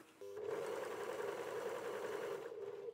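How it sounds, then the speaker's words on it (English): A three-thread overlocker sews and trims the edge of bridesmaid dress fabric with its cutting blade, a short continuous buzzing hum lasting a few seconds, close and steady, with no voices. "I've got my cutting blade just on the edge there, and that's going to be cutting the fabric as I go"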